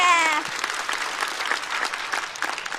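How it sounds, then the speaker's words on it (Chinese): A stand-up comedy audience claps for a comedian, a brisk, close burst of applause that follows a brief voice at the start and continues evenly for nearly three seconds. "在此掌声送给小静"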